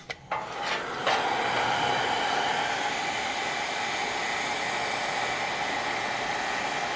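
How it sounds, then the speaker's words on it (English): A heat gun set to low heat blows a steady, close airflow onto an old, cracked tin of shoe polish, a continuous hiss and whir that starts after a couple of soft knocks and holds unchanged. "Get your heat gun on low heat"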